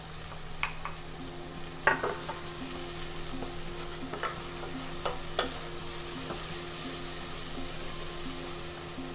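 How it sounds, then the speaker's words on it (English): Onions frying in oil for a home-cooked curry give a steady, soft sizzle, broken now and then by scraping stirs and light utensil taps against the pan, with no talk. "Just go ahead and add in your onions."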